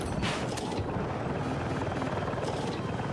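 A helicopter flies in the video game Battlefield 6, its dense, loud rotor and engine roar holding steady throughout, with brief swooshing accents on top and no talk.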